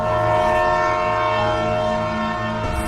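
Cartoon train pulling into a railway station, a steady rumbling roll with sustained horn-like tones throughout, loud and alone with no voices.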